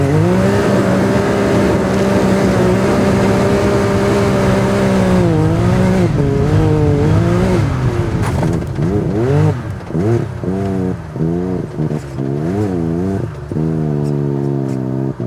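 A Can-Am X3 side-by-side fitted with an MBRP exhaust idles loudly at close range, then revs repeatedly with rising and falling engine pitch in quick blips.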